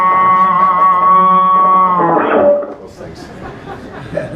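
A bass guitar runs through a signature distortion pedal switched on, sustaining a gritty held note for about two seconds before it breaks into a brief burst and fades under room noise.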